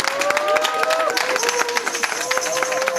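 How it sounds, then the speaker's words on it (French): A studio audience claps steadily for a musician as he is introduced. The dense clatter of hands runs through the whole stretch, with a voice sounding over it. "Voici Cody, que je vous demande d'applaudir."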